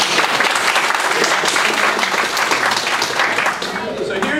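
An audience at a Sunday Assembly gathering applauds, with dense, loud, sustained clapping from a crowd.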